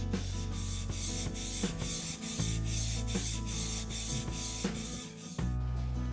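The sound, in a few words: chisel being sharpened on 1000 grit Pride whetstone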